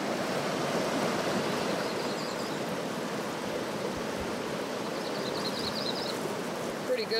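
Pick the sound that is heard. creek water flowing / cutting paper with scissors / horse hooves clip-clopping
creek water flowing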